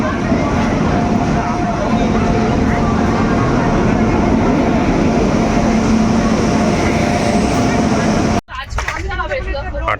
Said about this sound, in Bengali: আটটা 50 আর ট্রেন ছেড়ে দিল।